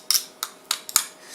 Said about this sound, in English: So I'm going to take a knife and just cut the excess off like that